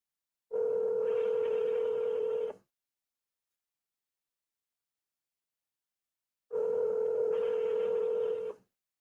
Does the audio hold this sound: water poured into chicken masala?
no